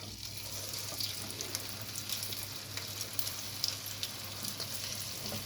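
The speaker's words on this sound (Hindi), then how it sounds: "तो हम इसको लेके चलेंगे अपने फ्राई पैन पे और इसको फ्राई करने के लिए मैं डाल दूँ" Potato cubes frying in a pan, a soft, steady sizzle with faint crackles and a low hum underneath, quiet and uninterrupted, with nobody speaking.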